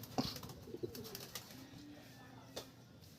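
A racing pigeon at a loft gives a few soft, low coos close by, with faint rustling and brief chirps around it.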